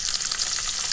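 Unbreaded crappie fillets frying in a pan at a winter truck camp in a northern Minnesota forest, giving a steady, close, hissing sizzle that holds evenly throughout with no voices.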